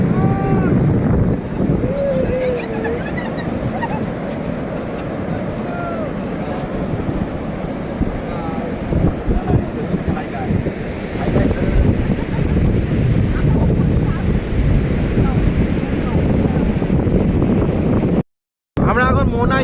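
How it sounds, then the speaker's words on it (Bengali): Sea waves wash in at a river estuary on a crowded beach in Digha, a continuous rushing surge under heavy wind buffeting, with voices faintly in the background. "এই মোহনায় সমুদ্রের জলের ঢেউ।"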